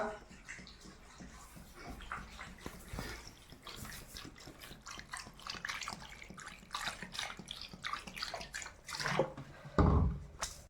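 Water is poured and swished over raw chicken legs to wash them, with turmeric powder added, giving a faint continuous splashing and sloshing with a louder splash near the end.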